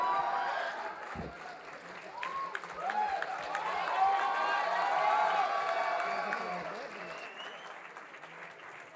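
Audience at a live comedy show breaking into sustained applause, a broad crowd of clapping that swells in the middle and fades near the end, with voices and a few cheers mixed in.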